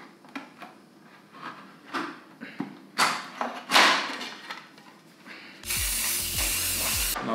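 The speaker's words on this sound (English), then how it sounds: "I have this cooking spray, which I just used to spray my pans." A few short hissing bursts of cooking spray onto baking pans mixed with clicks and handling clatter, then a steady loud hiss with low mechanical tones near the end.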